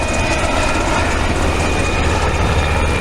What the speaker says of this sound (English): The helicopters are flying really low today